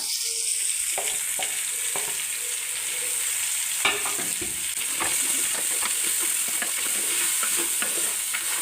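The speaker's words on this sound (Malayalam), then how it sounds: "ഈ പച്ചമുളകും ഈ കരിയാപ്പിലയോടെ അങ്ങ് ഇടാം സവാള ഇതിനകത്തോട്ട് ഇടാം" Green chillies, curry leaves and sliced onion hit hot oil in a pan for a Kerala-style pork curry, giving a steady loud sizzle with clinks and scrapes of a spoon stirring throughout.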